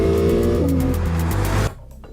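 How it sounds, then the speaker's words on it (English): A 2019 Porsche 911 Carrera (992) flat-six boxer engine roars and revs loudly, its deep note shifting pitch, then cuts off abruptly near the end. "You still got the flat six engines, the legendary Porsche boxer engines."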